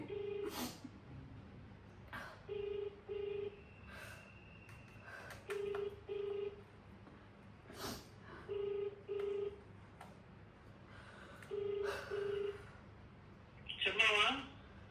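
A phone number being dialed to place a call, with a series of short electronic keypad tones in pairs at a steady pace, fairly faint, with light breathing and small background noises between them.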